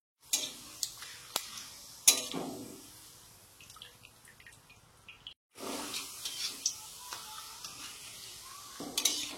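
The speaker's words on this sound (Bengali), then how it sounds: "আর এদিকে এই পাঁপড় ভাজছি।" Papad frying in a pan of hot oil in a home kitchen, with faint crackling sizzle and scattered sharp pops and clicks, quiet and close.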